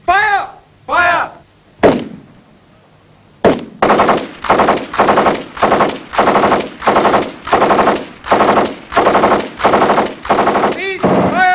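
Bursts of machine gun fire ring out during a military section attack drill, first a few short shots and then a long run of loud, evenly spaced rapid bursts. Shouted commands come before the firing.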